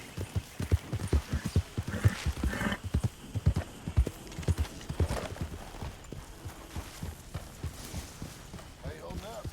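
Horse hooves clip-clop in Red Dead Redemption 2, a steady rhythmic trot of hoof strikes running throughout at moderate loudness, with character dialogue spoken over it.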